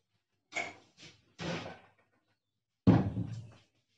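A door closes indoors: a few soft rattles and knocks as it moves, then a firm thud as it shuts, close by in an otherwise quiet room.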